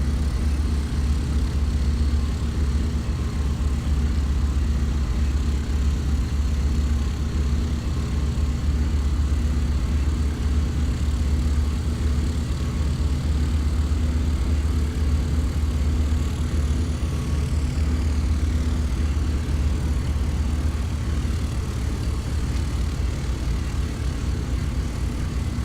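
A Beechcraft Super 18 twin-engine taxiing on the ground, a steady, loud, continuous propeller and radial engine drone holding level throughout with no talk.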